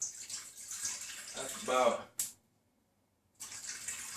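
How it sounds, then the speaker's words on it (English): Two cups of water pour into a Power Quick Pot Instant Pot as a rushing, splashing stream that stops abruptly, with a person talking over it. "Just throw 2 cups of water in there"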